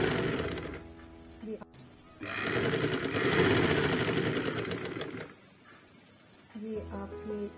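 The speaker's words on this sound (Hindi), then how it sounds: "तो देखिए, हम अपने निशान के ऊपर सिलाई लगाएंगे।" A sewing machine stitches a box-pleated girls' frock, running in loud, steady mechanical bursts separated by short pauses, close up, with a voice speaking briefly between runs.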